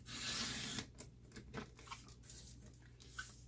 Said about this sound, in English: So you got 15/16, and the next one is 7 inches, and you're going to cut it.